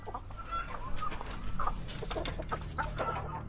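Decal Brown laying hens cluck steadily and close by, with short rising calls repeated over low background noise and no speech.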